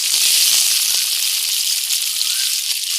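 Potatoes drop into hot oil in a heated pan and set off a loud, steady sizzle that hisses strongly and continuously throughout, close up and with no talk over it.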